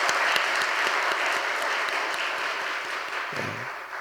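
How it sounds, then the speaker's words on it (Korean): A church congregation at a Friday service gives warm applause for the middle school group: steady, full clapping from many hands that tapers gently near the end. "우리 중등부 친구들 우리 뜨겁게 한 박수 하겠습니다."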